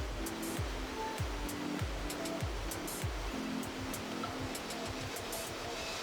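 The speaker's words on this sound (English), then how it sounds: "Proxy Falls drops 226 feet off the edge of a hanging valley into a gaping canyon below." Proxy Falls in Oregon's Willamette National Forest, a 226-foot plunge off a hanging valley into a canyon: a constant broadband rush of falling water under a rhythmic, beat-like musical pulse.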